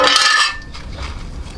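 A metal inspection plate comes off a 4-cylinder Toyota Camry engine during a timing belt job, giving a bright, close metallic clatter and scrape for about half a second, then fading into quiet handling noise.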